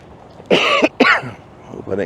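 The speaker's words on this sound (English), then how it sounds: "Hope I didn't cough in y'all's ear there." A person coughs twice, close and sharp, while outdoors in the rain, followed by a brief throat-clearing sound.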